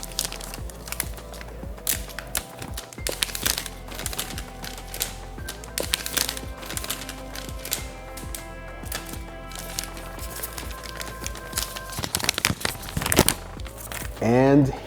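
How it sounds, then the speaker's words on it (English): Plastic wrapping and a sticker being pulled off a new Xbox Series X console, with dense crinkling, crackling and tearing throughout at close range, a few sharper rips near the end. "Now let's remove this Power Your Dream sticker and remove this guy from the wrapping."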